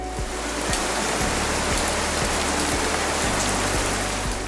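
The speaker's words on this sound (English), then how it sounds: "First up, rain." Steady rain falls without a break, a dense even hiss of drops on a surface with a few sharper taps near the listener, and no voices.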